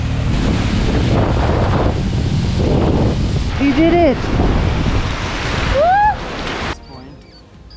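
A raging river in Spiti Valley roars loud and close in a constant wash of rushing water, with people shouting and calling out over it before the roar cuts away near the end.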